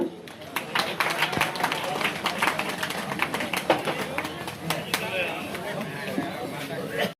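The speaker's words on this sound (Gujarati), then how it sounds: "તાળીઓ ચાલુ રાખો" Audience clapping at a pitru vandana memorial gathering in Dihor, Gujarat, held for those who died in an incident three years earlier; a steady, dense round of applause runs throughout with sharp individual claps standing out.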